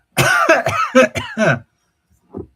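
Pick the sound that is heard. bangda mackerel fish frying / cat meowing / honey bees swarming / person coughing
person coughing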